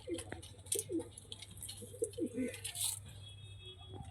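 Several Giribaz pigeons coo in soft, low, repeated murmurs over a steady low hum, with faint rustling and high chirps nearby.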